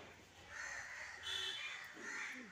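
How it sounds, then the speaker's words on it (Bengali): Crows caw repeatedly around a house with trees, a few harsh calls at moderate distance over a quiet outdoor background, with no one talking. "কত পাখি ডাকছে"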